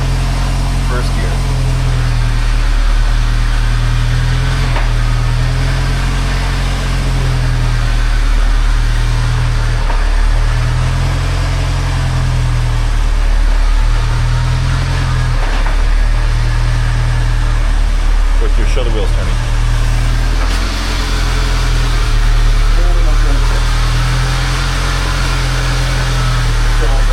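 A Saab 900 engine runs steadily in first gear, a loud, continuous low drone with rhythmic pulsing and cabin hum, while people talk over it.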